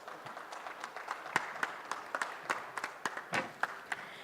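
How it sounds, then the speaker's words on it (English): Sparse, faint applause at a steel industry exhibition and conference for a guest of honor, a few hands clapping in a scattered, uneven rhythm with no talking. "let's have a big round of applause for Mr. Paramjeet Singh"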